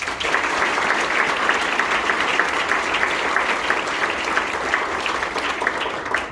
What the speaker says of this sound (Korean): 신입직원분들에게 뜨거운 격려의 박수 부탁드리겠습니다.